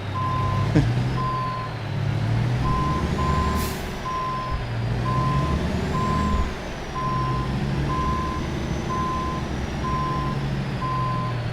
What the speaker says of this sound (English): I already know I'm gonna be horrible at backing this trailer up.